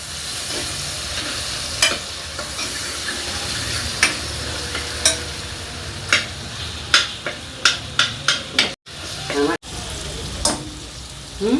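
Onions frying in a pan until brown for a fish curry, giving a loud, steady sizzle with a run of sharp spatula scrapes and knocks that grow quicker toward the end.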